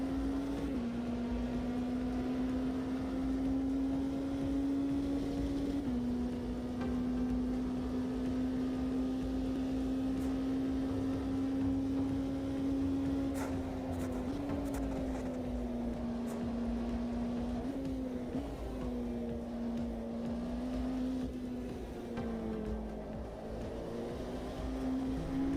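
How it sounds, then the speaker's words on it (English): Steady whining transmission drone from a race car in a racing video game, a sustained tonal hum that shifts slightly in pitch through a slower corner, continuous and fairly prominent with no talk. "Love the transmission sound in the slower corners"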